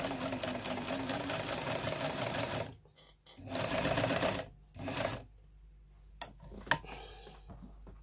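A Jones M 949 sewing machine stitching in fast steady runs, stopping and restarting in several short bursts, then falling quiet with a few faint clicks.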